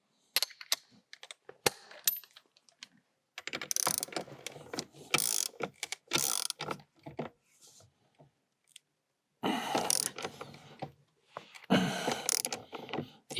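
A ratchet tightening the steering wheel nut on a Fiat Abarth 500 during a spacer installation, with bursts of rapid clicking separated by pauses and sharp single clicks, close and alone.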